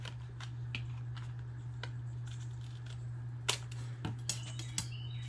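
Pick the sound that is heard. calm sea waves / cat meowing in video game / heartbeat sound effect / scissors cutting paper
scissors cutting paper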